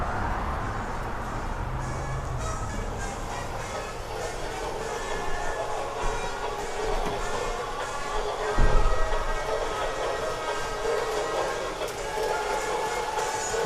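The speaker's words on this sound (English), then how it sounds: "Here comes that Santa train" A holiday Santa train rumbles past in a busy city display-window setting, a continuous dense clatter and hiss with a broad steady roar, joined by a brief thump, while crowd murmur sits underneath.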